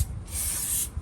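Short steady hiss of aerosol brake cleaner sprayed through a small nozzle into tight spaces near a flood-damaged rear differential, lasting about half a second between quieter moments.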